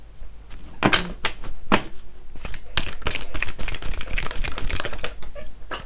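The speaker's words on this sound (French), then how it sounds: "toutes les cartes tombent" Tarot cards falling and being handled on a table, heard as a rapid, uneven run of close, crisp slaps and flutters that lasts for several seconds, with no talking.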